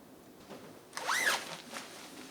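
A clothing zipper is pulled once, a quick close rasping zip lasting about half a second, followed by a fainter rustle of fabric in an otherwise quiet room.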